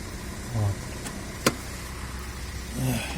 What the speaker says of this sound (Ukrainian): зараз мотор працює. Мотор працює.